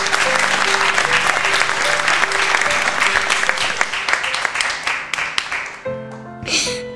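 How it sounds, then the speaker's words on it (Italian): Lively applause from a gathered audience, dense clapping that gradually thins and fades out near the end, with voices and a tonal hum underneath. "Fare un applauso."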